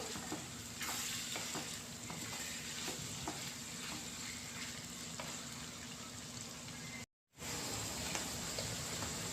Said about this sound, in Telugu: ఇవన్నీ మంచిగా ఫ్రై అయిపోవాలి.